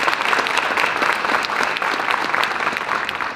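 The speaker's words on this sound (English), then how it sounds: "let's give them a round of applause." A conference audience gives a round of applause at the EICAC 2024 opening, dense steady clapping from many hands filling the room without pause.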